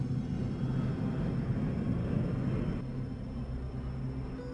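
Airliner jet engines roar steadily and loudly throughout, a dense low rumble with a faint high whine, as a brand-new passenger airplane takes off.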